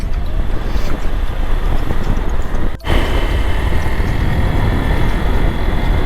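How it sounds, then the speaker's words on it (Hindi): Cold wind blowing steadily between mountains near Kedarnath on the yatra route, heard as loud continuous broadband rushing with microphone buffeting throughout and one brief dip midway. "पहाड़ों के बीच में ठंडी ठंडी हवा चल रही है"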